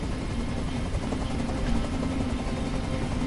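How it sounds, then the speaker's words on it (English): Helicopter rotor and engine noise fills the whole stretch, a steady loud low drone with a dense broadband wash and no pauses or speech. "I can't stand that noise anymore! Tell that helicopter to get out of here!"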